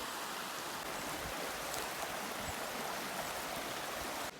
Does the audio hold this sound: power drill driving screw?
no